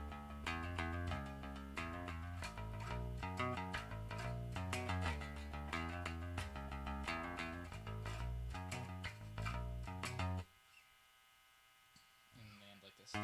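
A punchy electric bass riff played in a quick repeating pattern, loud and close, then a sustained ringing note before a final pluck.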